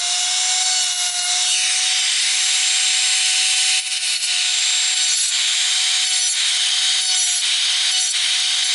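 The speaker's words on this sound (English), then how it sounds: "with my drill, come down here and start cutting out the gel" An electric nail drill grinds steadily through gel nail polish, a continuous high-pitched whine with faint rubbing scrapes as the bit moves over the nail, close and fairly loud throughout.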